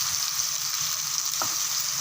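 Steady sizzling of tomatoes frying in a pan after garlic, with a faint scrape of stirring partway through; no voices.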